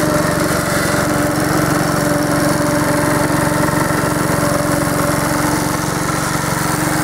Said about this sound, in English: he wanted me to make a video of him cutting grass on this lawnmower.